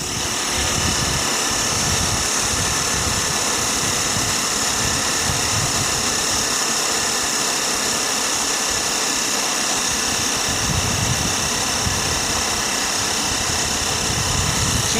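A Sirius steam engine generator runs steadily under test, making a loud, continuous broadband whoosh and mechanical hum that holds level for the whole stretch without breaks.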